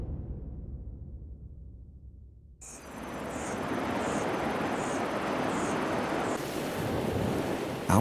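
Ocean surf breaking continuously, a broad steady wash of waves with wind noise, starting quieter and then swelling to a loud, sustained roar.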